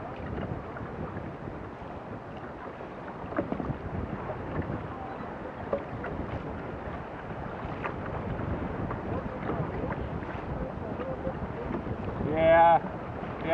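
Steady wind buffets the microphone while kayaking and fighting a fish on Lake Michigan, a continuous broadband rush with small gusts throughout and a brief louder burst near the end.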